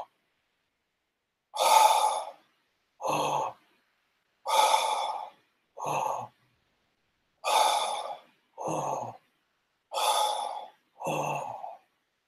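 A breathing exercise of slow, audible breaths, alternating longer inhales and shorter exhales in four evenly spaced pairs, each followed by a held-breath pause of silence.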